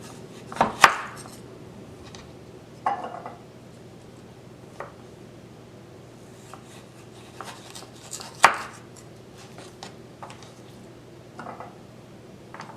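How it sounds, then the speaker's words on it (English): A knife chops sweet potato slices into half-inch sticks on a board, with sparse, uneven sharp cuts and a few louder chops over a quiet background. "Take each slice and cut into at least 1/2 inch sticks."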